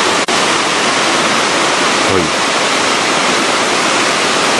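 Steady, full rushing of a clear river with white stones and bluish-white water near Shirahige Falls in Biei, continuous and close, with a single short spoken word partway through.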